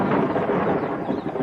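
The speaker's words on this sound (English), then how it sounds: "Thunderstorms." Deep, rolling thunder from a summer thunderstorm rumbles steadily and loudly, a continuous low roar with no voices.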